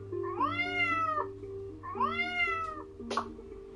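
A cat gives two drawn-out, rising-and-falling meows close by, separated by a short pause, then a brief clipped chirp at the end over quiet room hum.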